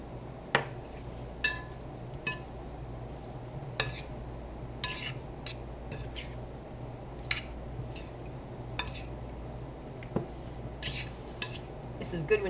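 A utensil clinks and scrapes sporadically against a bowl while fresh green bean salad is tossed, faint irregular taps spread over a soft hum of room noise.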